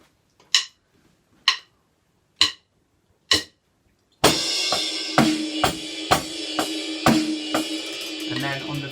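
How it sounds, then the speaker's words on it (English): Four sparse, sharp hits alone, then a full drum groove kicks in with a crash cymbal splash on the first beat, steady and loud. "We only, on the 3rd bar, have a crash on beat 1"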